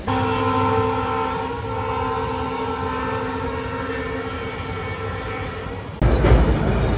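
The Yoga Express, running from Ahmedabad to Haridwar, rolls along with a continuous close, heavy rumble of wheels and carriages that swells noticeably louder near the end.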